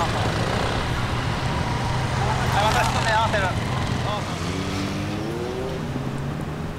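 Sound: lightweight Yamaha Tricker motorcycle riding during a timed course

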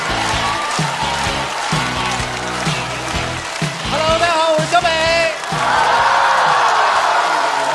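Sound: studio audience applause welcoming comedian Xiaobei on stage

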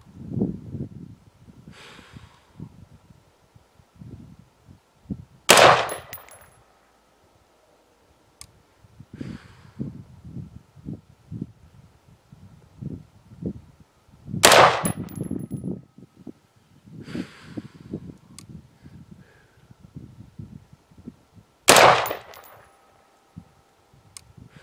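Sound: rifle shots hitting a steel target, Weaver V3 scope

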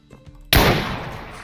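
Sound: gunshot in Jujutsu Kaisen Minecraft video game

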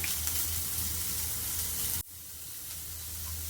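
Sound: small chopped onions frying in a pan

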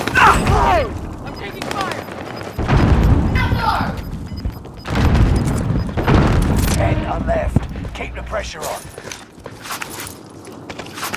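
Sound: cluster strike explosions, from video game Call of Duty: Modern Warfare

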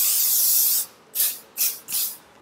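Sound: glue being sprayed on hair

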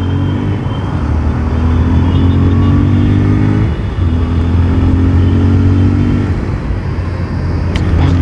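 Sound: Bajaj Pulsar 125 motorcycle accelerating

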